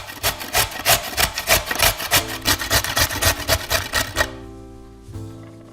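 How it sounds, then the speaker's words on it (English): A carrot is grated on a coarse grater in a steady run of rhythmic rasping strokes that are close and fairly loud. The scraping stops after about four seconds and a faint, brief rub follows. "We cleaned 1 carrot and grate it on a coarse grater."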